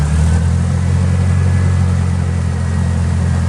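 A Yale GC080 8,000 lb cushion-tire forklift's LP gas engine runs steadily at a low, even idle. The rumble is close and constant, with no voices over it.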